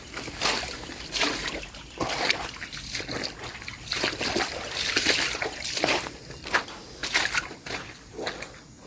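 Water tipped out of a container at an outdoor grave construction site, splashing and sloshing in several uneven bursts over about nine seconds, fairly close and loud with no talk.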